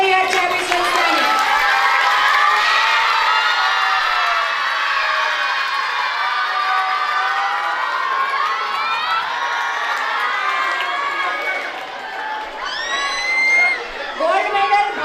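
A large audience at a school annual function cheers and shouts loudly and steadily, with children's voices prominent, swelling again near the end.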